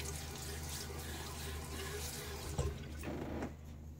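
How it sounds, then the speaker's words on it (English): Water splashes onto a face at a bathroom sink during a wet shave, a steady running-tap wash with a brief sharper splash near the middle, close and alone. "throw a little water on my face"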